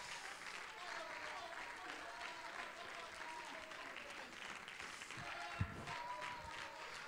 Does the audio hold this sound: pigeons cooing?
no